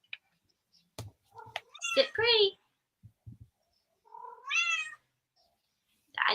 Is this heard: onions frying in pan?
no